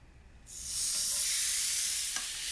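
Burgers hit a hot griddle with a sudden loud sizzle that swells and then holds as a steady, bright hiss, close by and with no talk over it.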